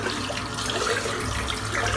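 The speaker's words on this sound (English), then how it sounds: "I'm just going to rinse this soap out." Steady running water from a tap rinsing shaving soap out of a shaving brush, a continuous close splashing hiss lasting throughout at even loudness, no voices.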